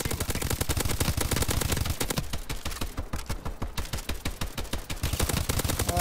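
Rapid bursts of automatic gunfire in Call of Duty: Advanced Warfare as a player shoots a Goliath exosuit from behind, loud sustained rattling volleys with a brief thinner stretch in the middle before heavy fire resumes.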